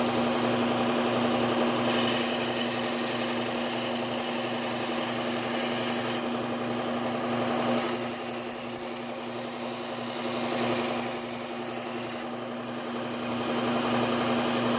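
A Wusthof or Henckels chef knife being sharpened gives a steady rasping, grinding scrape that comes in long passes. It is loud and close, fades in intensity between strokes, and plays with no talk over it.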